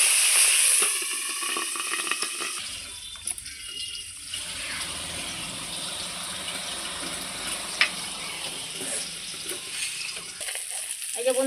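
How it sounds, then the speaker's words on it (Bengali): Tengra fish fry in hot oil with a continuous bright sizzle that holds steady at moderate loudness, with faint clinks and stirring noises over it. "এবার যে মাছগুলো আছে বাদ বাকি মাছগুলোও ভেজে নেব"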